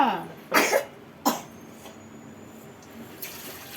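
A person coughs indoors: two close, sharp coughs followed by a single softer one, with a faint trickle of running water underneath.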